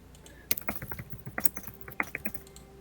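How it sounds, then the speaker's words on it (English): Fast, irregular keyboard clacks in quick bursts, close and crisp, with no voices. "We love some furious typing."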